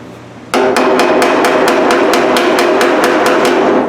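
Steel bonnet panel of a Triumph Spitfire struck with a hammer off-dolly, a loud, steady run of about a dozen sharp metallic blows in even rhythm, close and alone with no talk.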